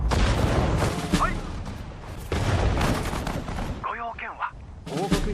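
Artillery and gun fire in the strategy game Sudden Strike 4, Okinawa mission: dense, loud, overlapping blasts and rumbling volleys that run almost continuously, with brief sharper shots and a few whistling shell-like sounds near the end.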